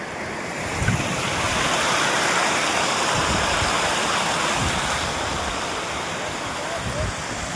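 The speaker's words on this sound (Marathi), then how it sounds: "तलावाचं ओव्हरफ्लोचं पाणी आहे ही खाली धबधब्याला जाते" Overflow water from a lake rushes steadily downhill toward a waterfall near a dam, a loud continuous broadband roar with occasional low thumps, close by and without pause.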